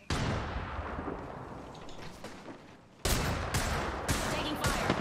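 Gunfire crackles in Apex Legends, with a burst of rapid shots at first, then louder, sharper volleys of automatic fire in the second half amid game noise.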